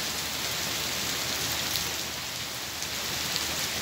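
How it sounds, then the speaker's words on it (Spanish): Heavy nighttime downpour during carp fishing, a steady dense hiss of rain pouring onto surfaces, loud and continuous with no voices or breaks. "Es impresionante lo que está lloviendo."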